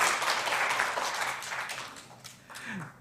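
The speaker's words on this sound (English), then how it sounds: "Please, can we have a round of applause from him?" Audience applause at a C20 policy dialogue meeting, a short round of clapping that thins and fades over a few seconds, with a voice entering faintly at the end.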